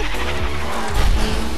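A car skidding in the video game Fortnite during a live event: a loud, close tire squeal and engine roar over a brief burst.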